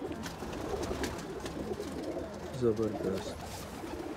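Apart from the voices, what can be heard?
pigeon cooing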